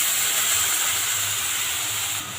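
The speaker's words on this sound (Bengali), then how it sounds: "এবার মশলাটা কষানোর জন্য একটু জল দিয়ে দেব।" A splash of water hits hot chicken masala in a pan and throws off a loud, close, steady hiss of steam that eases slightly near the end.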